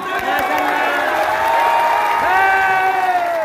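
Applause and crowd noise at a protest rally of the Muslim Aakrosh Morcha, a dense sustained clatter with raised voices and whoops mixed in, steady and loud throughout.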